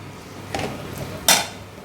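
A spoon clinks and scrapes against a pan while Schezwan fried rice is stirred, two quick metallic knocks, the second louder, over a quiet kitchen background.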